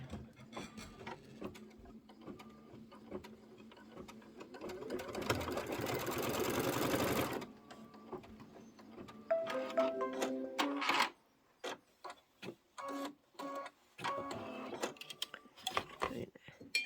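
Mechanical stitching of an embroidery machine stitching onto fabric, with rapid ticking and whirring, a loud buzzing burst in the middle, then sporadic clicks and short bursts.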